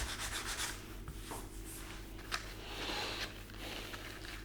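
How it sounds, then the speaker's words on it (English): Primer is hand-sanded with sandpaper in quiet, scratchy back-and-forth rubbing strokes over a low background hum, with one slightly sharper scrape partway through. "you can sand more, and then you can go back to 220 to smooth it out"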